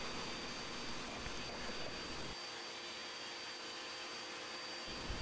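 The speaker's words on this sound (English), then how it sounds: "I'm vacuuming away all the debris and dust and wiping the fretboard clean" A vacuum cleaner sucks debris and dust off a guitar fretboard, a steady faint whooshing hum that shifts in tone partway through as the nozzle moves, with no talking.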